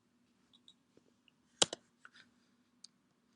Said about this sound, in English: Let me type it so that there's documentation.